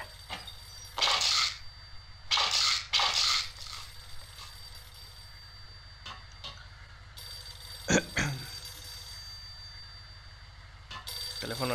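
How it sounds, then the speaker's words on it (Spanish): A telephone in the Max Payne video game rings in repeated bursts over a low game background hum, with a few sharp clicks and thuds between the rings. "Teléfono, se supone que es esto."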